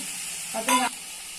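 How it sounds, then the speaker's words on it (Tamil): Tomato and onion sauté in a pan for kara kuzhambu, a constant hiss that swells into a louder sizzling burst for a moment, then settles back. "தக்காளியை போட்டுட்டு அதையும் நல்லா வதக்கிடலாம்"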